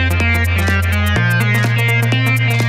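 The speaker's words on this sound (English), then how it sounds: "the B section, which is the chord progression, with the melody, which sounds like this" A B-section chord progression with a melody from an Ableton electronic track: steady held synth chords with a deep bass that shifts once, overlaid by a repeating series of bright plucked melody notes.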